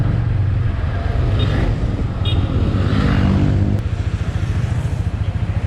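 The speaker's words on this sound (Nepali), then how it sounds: "क्लचबाट तपाईँले क्लच बिस्तारै छोड्दै जानुहोस्, एक्सिलेटर दिनै पर्दैन, आफै मुभ हुन्छ बाइक" A 2021 TVS Apache RTR 200 4V BS6 motorcycle pulls away as the clutch is eased out without throttle, its close single-cylinder engine thumping steadily at low revs and changing pitch slightly as it starts to move.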